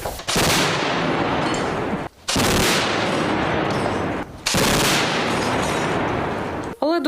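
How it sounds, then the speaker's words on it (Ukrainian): Three long, loud bursts of rapid heavy anti-aircraft gunfire at night, firing at Shahed drones, each lasting about two seconds with brief gaps between, close and booming. "Ось так із зенітки збивають шахеди"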